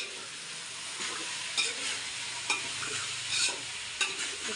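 Vegetables for veg pulao sizzle steadily in a pan, a continuous close frying hiss broken by a few sharper stirring scrapes, with no talking.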